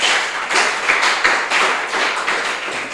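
A church congregation at a healing and deliverance service claps loudly and steadily, a dense continuous wash of many hands with crowd noise and cheering, close and sustained throughout.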